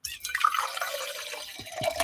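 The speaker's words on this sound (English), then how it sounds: "I'm going to pour my water." Water poured into a glass in Ames, Iowa, a short trickling, dripping pour heard close and moderately loud, lasting about two seconds with no talking over it.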